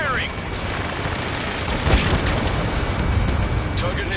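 Booming explosions and rapid gunfire from an air combat video game, a loud dense barrage with sharp cracks over a constant low rumble.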